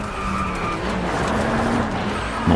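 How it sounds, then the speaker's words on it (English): A BAC Mono race car in Driveclub on PlayStation 4 runs with a steady engine drone and squealing tires as it skids off the track, loud and close, with a sharp thump at the end. "This is a BAC mono I'm driving."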